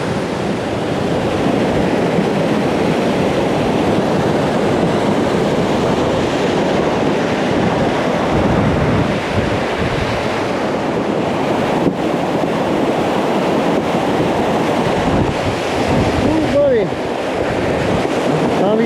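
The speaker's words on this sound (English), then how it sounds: "The only obstacle we have left in the way is this river, and we got to get across." The White River rushes in a steady, loud broadband wash, its flow mixed with wind buffeting the microphone over nearly nineteen seconds, with no clear voices.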